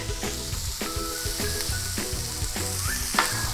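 Garlic sizzles in a pan with cooked peppers and onions for shrimp creole, a constant close crackling hiss with a few stirring scrapes and soft music running underneath.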